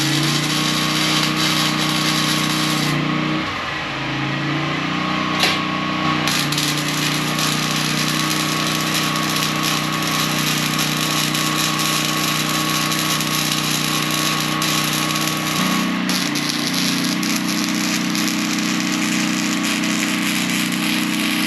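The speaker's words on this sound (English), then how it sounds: "So now it's time to get those welded in" Welding work on the steel frame of a garage, a steady loud buzzing hum running unbroken throughout with brief shifts in tone and a faint tick partway through.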